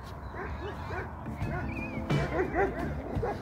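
Kangal dog puppies yip and whimper at a Kangal breeding farm, with several short, high calls coming close together and overlapping. Someone speaks softly beneath and between them.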